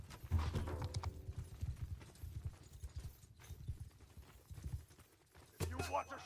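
Horse hooves clip-clop in a steady rhythm during a competitive video game match, soft and under game audio, with occasional louder bursts of game effects and a voice talking over them.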